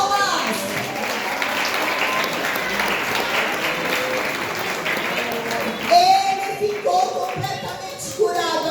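Steady applause from a church audience fills the room for several seconds during a Bible lesson, then fades as a voice resumes speaking.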